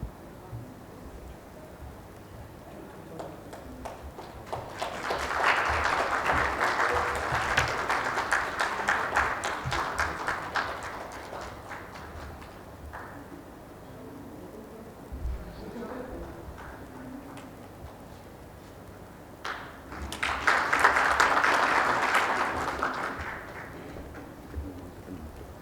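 An audience at a law education panel discussion in India breaks into applause twice, a sustained crackling round of clapping lasting several seconds, then a second, shorter burst, with low murmuring and faint talk in between.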